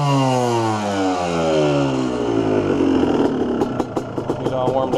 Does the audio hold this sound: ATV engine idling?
yes